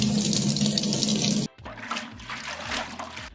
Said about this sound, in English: The easiest way to do that is using some distilled water to wet your pad.